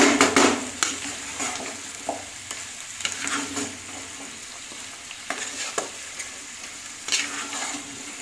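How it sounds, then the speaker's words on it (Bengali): Chicken stew frying in a pan is stirred with a utensil, giving steady close sizzling broken by repeated scraping clinks against the metal, with no talking. "দিলাম, একটু নাড়বো আমি এটা।"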